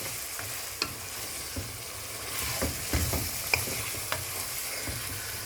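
Pork wet fry sizzles steadily in a pan, a continuous hiss broken by scattered sharp pops and a few scraping stirs, close and moderately loud with no talking.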